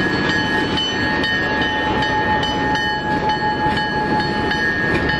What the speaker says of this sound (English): the train proceeds just a little bit further north to the Wellsboro Branch Y